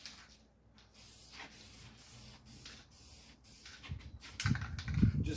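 An aerosol can sprays a light dusting of gray primer onto a Model A Ford fender, soft short hisses close by that build into louder bursts near the end, with no talking.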